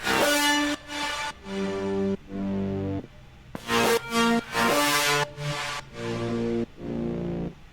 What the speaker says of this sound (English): I thought I'd just play this reese bass sound again